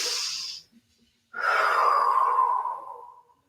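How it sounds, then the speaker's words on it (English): Deep whole-body breath in a kids yoga class: a short airy exhale, a pause, then a long, loud, steady outbreath lasting about two seconds before fading, with no talking. "When we do our whole body breathing, we can slow down our breath and our heart"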